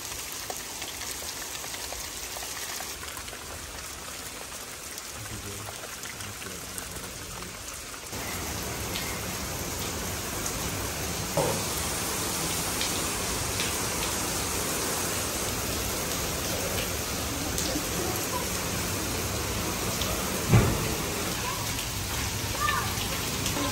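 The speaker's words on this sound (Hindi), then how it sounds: "बारिश खुद रुक ही नहीं रही। ये तो एकदम से तेज़ हो गई है।" Heavy rain pours continuously, a dense, loud hiss of drops on surfaces that grows stronger partway through, with a few brief louder spatters.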